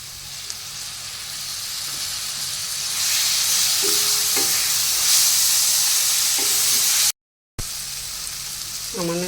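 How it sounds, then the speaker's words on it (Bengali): Garlic paste hits a pan of fried onion, chilli, clove and cinnamon, giving a steady loud sizzle and hiss that swells midway, with a brief dropout and faint stirring clinks, no talking. "এবার আমি রসুন বাটাটা দিয়ে দেব।"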